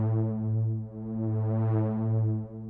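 A Serum reese bass synth plays one sustained, buzzy low note while an LFO on the filter cutoff slowly opens and closes the brightness, giving a smooth wah-like sweep.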